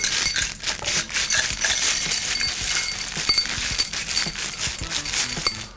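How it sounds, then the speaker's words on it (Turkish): Ice cubes tumble into a glass for a homemade copy of a Starbucks Cool Lime drink, giving a dense, continuous run of bright clinks and rattles, close and fairly loud, with no talk. "Şimdi şöyle bu patlamış olan yerinden buzları döküyorum."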